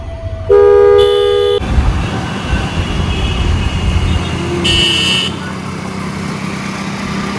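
Car horns honk loudly in a traffic jam, with one long blast followed by a shorter toot over the continuous rumble of road traffic.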